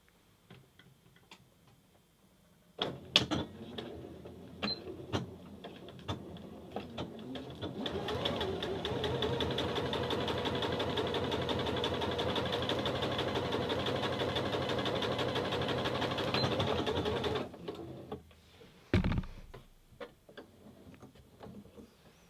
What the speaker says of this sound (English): I'm going to put that up to 4, and we're going to do a little test run to see what that looks like.